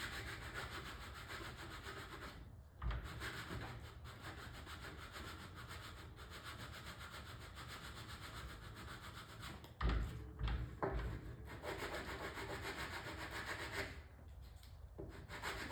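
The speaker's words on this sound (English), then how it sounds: "you don't want to sand it off either" Wood filler on an arcade cabinet is sanded by hand in long continuous rubbing strokes, close and steady, with a few brief pauses and knocks.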